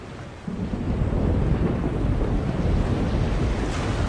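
Low rumbling thunderstorm in a fantasy adventure game, a broad continuous roar of wind and distant thunder that swells after the first half second and holds steady, with no talking.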